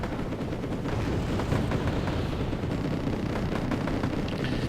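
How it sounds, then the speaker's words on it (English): Auto cannon fire from an MBT-70 tank in the video game Wargame AirLand Battle, a dense, continuous roar of rapid shots and blasts filling the scene at steady loudness with no talk. "auto cannon on the MBT-70 is really annoying"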